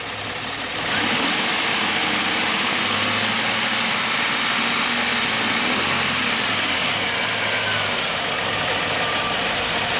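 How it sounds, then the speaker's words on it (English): A warmed-up car engine idles steadily and loudly at close range, a continuous low rumble with a faint mechanical knock running through it, and no talking. "So once this engine's warmed up"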